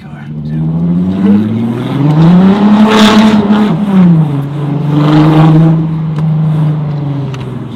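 A powerful, high-torque car revs hard and accelerates, the engine note climbing then dropping through a gear change before building again, loud and close throughout.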